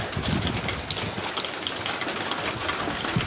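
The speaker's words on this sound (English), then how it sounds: "One day it's going to stop raining." Steady rain falls outside a workshop during a wet spell, a continuous dense hiss with no talking.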